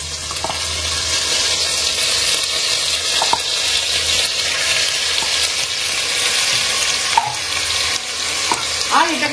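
Ginger and green chilli paste with nigella seeds frying and being stirred in a hot pan, a steady loud sizzle with occasional scraping stir clicks throughout.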